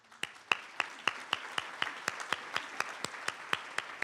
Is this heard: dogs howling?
no